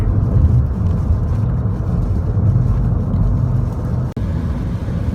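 Interior rumble of a 2015 Volkswagen Jetta TDI diesel with a six-speed manual, driving on the road: a steady, loud low drone of engine and tires, continuous and without speech, with one brief dropout near the end.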